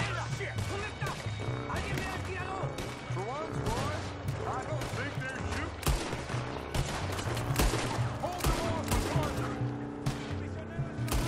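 Gunfire in Red Dead Redemption, a rapid volley of sharp shots and cracks scattered through the clip amid game music and effects, with people talking over the action.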